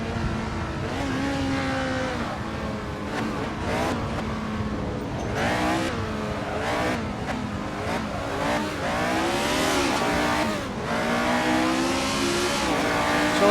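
Race car engines in Assetto Corsa at the 1967 New Zealand Grand Prix at Pukekohe, a Tasman Series race, roar loudly and continuously, revving up and down with shifting pitch as cars close in and pass.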